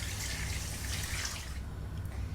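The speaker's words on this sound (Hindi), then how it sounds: "इसमें मैं 11 ग्लास वाटर ऐड कर दूँगी यानी कि 11 ग्लास पानी।" Water pours steadily into a cooking pot for chicken mandi, a continuous splashing rush for about a second and a half that then thins out, close and fairly loud.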